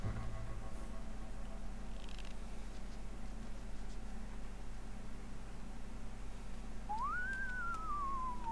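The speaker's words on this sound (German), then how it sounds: "Pfeif nicht." A single whistled note rising then gliding slowly downward, heard alone over steady background noise, with no talking during it.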